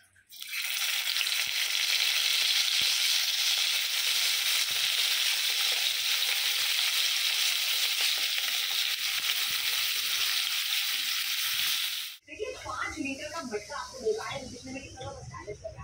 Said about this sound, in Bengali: মাছ ভাজাটা হতে থাক